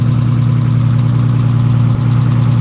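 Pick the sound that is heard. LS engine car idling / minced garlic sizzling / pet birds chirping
LS engine car idling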